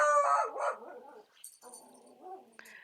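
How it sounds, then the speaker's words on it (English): Dogs barking and yipping as a storm approaches, a few high, howl-like barks close by with short gaps between them. "the dogs are going to kind of go crazy"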